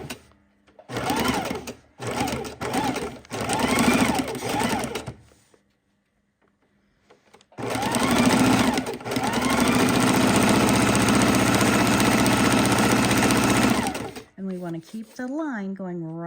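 A sewing machine stitches raw edge appliqué with a narrowed zigzag toward a point, running in several short bursts and then one long steady run, loud and close, with a voice talking over it.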